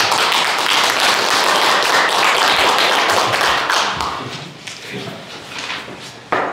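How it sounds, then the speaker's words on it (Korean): Audience applause at a lecture hall talk, a dense wash of clapping filling the first four seconds before thinning into scattered claps and light thumps. "큰 박수 부탁드립니다"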